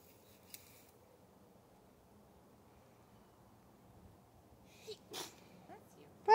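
A single quick sneeze sounds near the end of a quiet stretch with faint background hiss and a few soft clicks.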